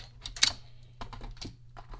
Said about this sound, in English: we're going to run the flowers and the leaves through the Stampin' Cut and Emboss machine